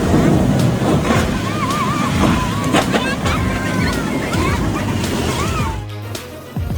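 Powerful water waves surge and crash in a continuous loud roar, with wind buffeting the microphone and voices babbling in the background.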